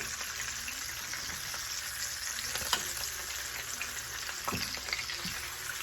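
Roasted garlic being stirred through a hot, sizzling pasta sauce in a pan, with a continuous frying hiss and occasional soft scraping stirs up close.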